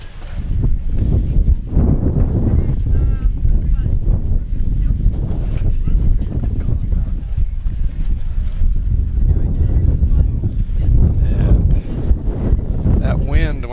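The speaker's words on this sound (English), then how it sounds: "that's a pretty large gust of wind right here." Strong wind gusts roar and buffet the microphone on open water at an archery competition, with boat noise and rushing air throughout and faint voices underneath.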